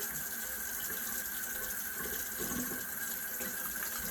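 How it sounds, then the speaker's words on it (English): A tap runs steadily into a sink while soapy hands are rinsed, a faint, even stream of water without talk. "you're going to want to rinse thoroughly so you get all the soap off"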